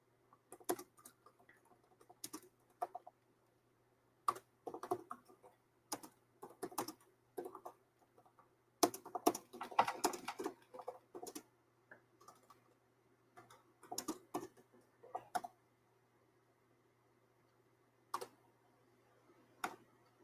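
Quiet, irregular bursts of clicky typing on an unfamiliar computer keyboard, with short runs of keystrokes separated by pauses over a faint steady hum in a room.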